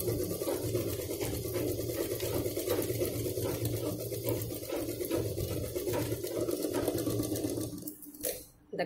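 A sewing machine stitching lining cloth over sponge runs in a steady, fast whirring rattle for most of the stretch, fairly faint, then stops near the end.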